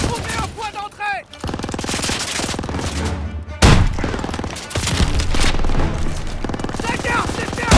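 Sustained machine gun fire in the Call of Duty WWII video game, loud dense bursts of rapid shots with booming impacts and shouted voices mixed in throughout.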